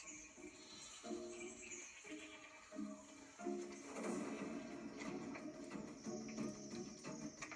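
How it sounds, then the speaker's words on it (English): Goats bleat several times in a wildlife documentary setting, with short wavering calls repeated over a soft background and some faint speech. "Then we don't have chimps. We film goats."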